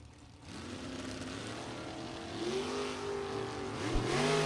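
Drag racing cars roar at the U.S. Bracket Nationals, a loud, sustained engine drone that rises in pitch as they accelerate, with a sharp surge near the end.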